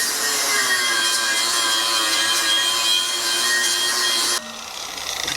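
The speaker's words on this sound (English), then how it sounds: "first thing I'm gonna do is clean up this wheel with a flap disc" A flap disc on an angle grinder cleaning up a metal wheel while building a vise stand, a loud steady high whine with abrasive rasping that runs unbroken, then cuts off abruptly near the end leaving a lower hum.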